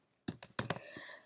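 Fingers tap a computer keyboard to type into music-coding software, five quick sharp key clicks in two short bursts close to the microphone, with a softer tap after them and quiet between.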